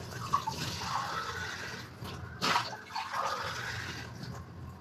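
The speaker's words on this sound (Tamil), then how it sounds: "ஒரு 2 டம்ளர் தண்ணி ஊற்றுங்க." Water poured from a tumbler into a pressure cooker while preparing a Nagercoil-style squid roast, a soft continuous splashing pour with a brief louder gush midway, close and alone without talk.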